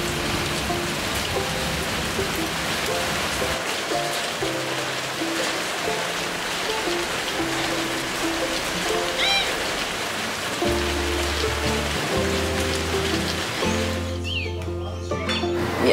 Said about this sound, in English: But surprise, it started to rain.